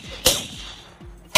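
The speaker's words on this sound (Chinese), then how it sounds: "里面却突然传来枪声。" Gunshots fired inside a truck in a crime TV drama, two sharp, loud close blasts about a second apart, the first followed by a ringing, ringing decay.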